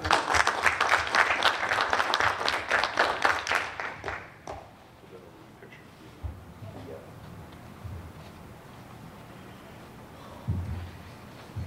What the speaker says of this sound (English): Round of applause for Ruben Trout.